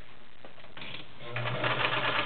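A White 742 convertible sewing machine runs a straight stitch, starting with soft mechanical clicks and then settling into a fairly loud, steady whirring hum as the needle drives.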